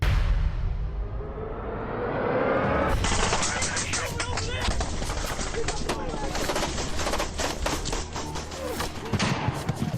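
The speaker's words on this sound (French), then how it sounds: "Les balles fusaient." Rapid bursts of gunfire crack and rattle in Vietnam War combat footage, dense, sharp repeated shots starting after a dull rumbling opening, with speech faintly mixed in.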